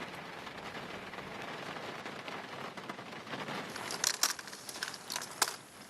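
Rain falls outdoors on discarded electronics, a faint, even patter with a few sharper drops striking hard surfaces near the end.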